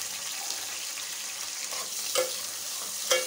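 Green chillies, curry leaves and mixed vegetables fry in a pan for a vegetable biryani, with a continuous soft sizzle and a couple of clinks and scrapes from stirring, at moderate level and without talking.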